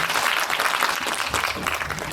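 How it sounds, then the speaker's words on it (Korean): Applause from a theater audience at a film screening event with a guest singer, a dense, loud and continuous roar of clapping throughout, with scattered crowd voices mixed in. "그럼 박수 한 번씩 칠까요?"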